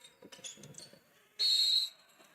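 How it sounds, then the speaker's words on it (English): A referee's whistle blows once, sharp and fairly loud, during a men's college basketball game against Embry-Riddle, following a stretch of quieter court noise. "Now got a whistle."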